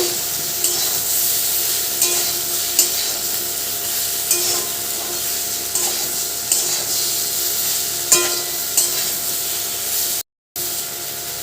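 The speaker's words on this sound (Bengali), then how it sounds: "তো যতটা পারি লাল লাল করে ভেজে নিচ্ছি" Chili-powdered masala with salt sizzles steadily as it fries in a pan, a dense continuous crackle with occasional scraping stirs and a brief dropout near the end.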